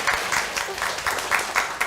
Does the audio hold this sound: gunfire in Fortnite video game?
no